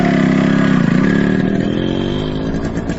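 Motorcycle engine revving loudly and close, a strong throbbing rev that holds and then slowly eases down in pitch, heard alone without talk.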